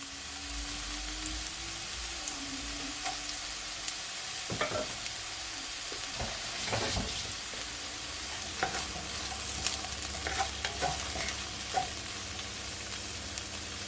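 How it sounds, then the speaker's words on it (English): Garlic and fresh ginger sauté in a pan for a stir-fry, giving a steady close sizzle and frying hiss, broken now and then by scraping stirs. "I'm just gonna leave it just for a couple of seconds for it to saute"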